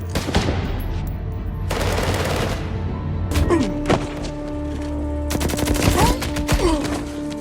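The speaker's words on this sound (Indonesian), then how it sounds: "bersembunyi dari tembakan beberapa penjaga di sana" Bursts of rapid automatic video game gunfire from guards crackle in waves, mixed with sharp single shots and heavy thuds, loud and close with a steady rumbling backdrop.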